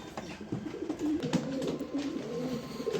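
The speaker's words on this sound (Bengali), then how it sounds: "এই যে 2 কার্টনের ভিতরে কবুতর আছে।" Pigeons packed in cardboard cartons for delivery coo softly and repeatedly, a low rolling murmur of several birds close by with faint background noise and no talk.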